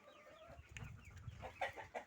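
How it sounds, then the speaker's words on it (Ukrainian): Soft, scattered clucks and cheeping from hens and chicks nearby, faint and irregular, with a couple of sharper peeps toward the end. "Курчата виходять, ось вибігли."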